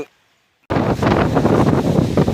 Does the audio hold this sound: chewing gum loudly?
no